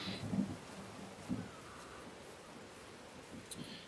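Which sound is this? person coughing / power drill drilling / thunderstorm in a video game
thunderstorm in a video game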